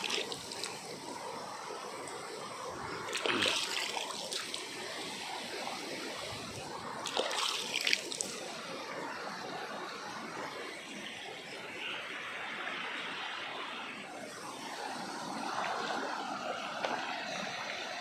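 Forest stream of running water, a steady soft trickle and gurgle heard close and fairly quiet, with a few brief louder splashes breaking through.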